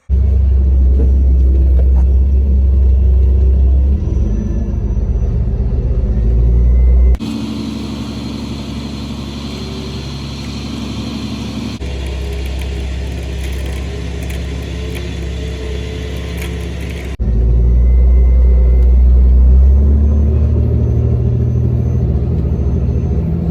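An off-road vehicle's winch hauls it out during a recovery, the line rigged to a tree saver with weights on it: a steady mechanical drone and rumble that grows harsher in the middle stretch over a continuous low engine hum, with no talk.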